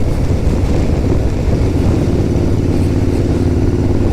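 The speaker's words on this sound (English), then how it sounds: "Engine braking with this bike," A Royal Enfield Interceptor motorcycle engine-braking on the road, giving a steady low rumbling drone with some wind rush throughout, loud and close without a break.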